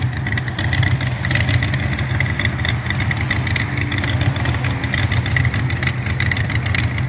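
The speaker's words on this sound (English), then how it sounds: "Hemi in action." Hemi V8 engine running at a Mopar car show, a steady, loud, rumbling idle with a rough throb that carries throughout, with no talk over it.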